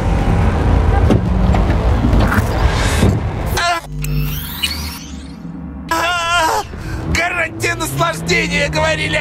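A car drives in the video game Cyberpunk 2077, its steady engine hum running under in-game voices speaking Russian and other background game sounds.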